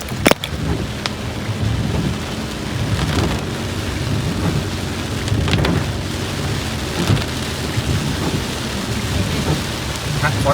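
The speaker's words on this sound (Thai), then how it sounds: "สายฝนก็ตกลงมาอีกแล้ว ตกหนัก ตกหนักซะด้วย" Heavy rain pours steadily outside a flooded school in Thailand, a dense continuous roar with scattered sharp drops and knocks, close and loud throughout.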